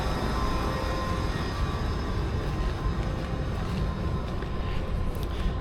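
A London Underground Piccadilly line train, heard as a steady, loud, continuous rumble with broad noise throughout and no break in level.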